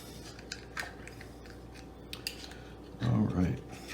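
Knife working under the muscle of an oyster while shucking, with small scrapes and clicks of metal on shell and a short louder grinding burst near the end, fairly quiet and close.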